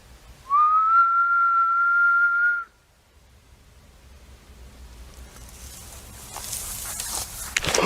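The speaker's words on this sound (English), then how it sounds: "I'm gonna try whistling back" A person out in the woods whistles one long steady note, loud and close, for about two seconds, then broad rustling noise builds and grows louder.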